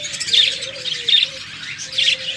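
A pair of rainbow lovebirds chirps in repeated bright bursts, with short tweets answered back and forth close by and no talking.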